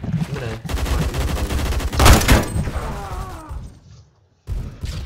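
Rapid bursts of gunfire in the Roblox shooter Phantom Forces, loud and close, with a louder volley midway, then a short silence before more shots.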